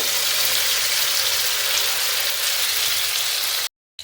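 Garlic and onion paste hitting hot oil with curry leaves, a steady bright sizzle and crackle at close range that cuts off abruptly near the end.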